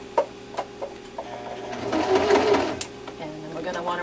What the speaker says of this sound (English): you're going to push the welting in as you sew and get nice and close